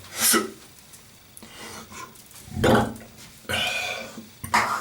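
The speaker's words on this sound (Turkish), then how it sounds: "Mesela ben şimdi geğirdim." A man's burps during a relaxed home shaving chat, several loud close eructations separated by short quiet pauses.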